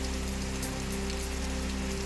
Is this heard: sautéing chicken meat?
no